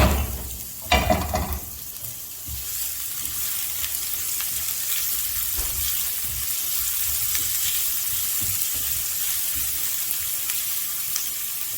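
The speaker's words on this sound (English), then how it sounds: "Onions first. Usual, make sure you cook the onion well." Onions frying in a pan, with a brief louder stir or clatter near the start, then a steady broadband sizzle holding on alone and without talk.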